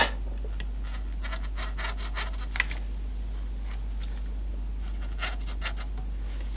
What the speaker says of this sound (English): it's rubbing on that gear, is it?